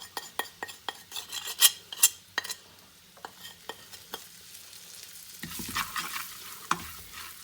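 Spoon scraping and stirring chicken pasta with onion powder, oregano and salt in a pan, a run of sharp rhythmic clinks and scrapes, then a softer sizzling stir near the end, close and fairly quiet.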